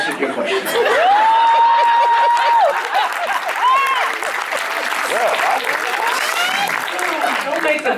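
At a TV cast panel, an audience applauds steadily, dense and fairly loud, mixed with scattered chuckles and crowd noise for about eight seconds, while a voice speaks over the clapping.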